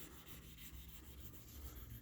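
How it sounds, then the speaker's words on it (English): Steady, continuous rubbing and rasping of an abrasive pad wet sanding the driver's side body panel of a 1969 Wagoneer, a soft even scrubbing texture with no talking. "wet sanding down the driver's side now that the passenger side's done"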